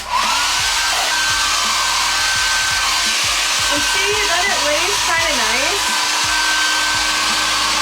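A hair dryer blows continuously up close with a steady roaring hiss, while someone speaks briefly over it.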